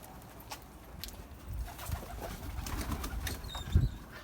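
Pet pigeons at a grandfather's breeding loft cooing in low, soft murmurs, with light shuffling and a brief flutter of wings nearby.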